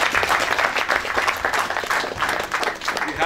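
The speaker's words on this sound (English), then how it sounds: "Big clap for Ruchi" An audience at a painting exhibition claps steadily for an artist being called up, producing a dense, even round of applause close to the microphone.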